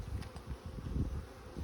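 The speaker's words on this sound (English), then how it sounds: "Completely new bees." New package honey bees freshly dropped into hive boxes, a dense, steady low buzzing from many bees close by with no talk over it.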